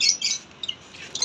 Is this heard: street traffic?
no